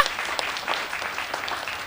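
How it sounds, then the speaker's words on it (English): Applause from a seminar audience at a real estate company's quarterly road show, steady dense clapping that stays loud and close for the whole stretch, with no voices rising above it. "A big round of applause for all of you."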